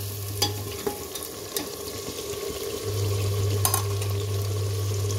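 Jackfruit curry sizzling as it fries in a pan, a steady close hiss with occasional clicks of a stirring spoon, and a low hum that grows louder partway through.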